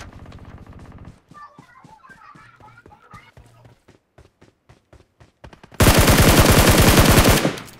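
Gunfire in PUBG Mobile: a quick burst, then a run of single spaced shots, followed by a loud sustained automatic volley, with a player's voice briefly heard.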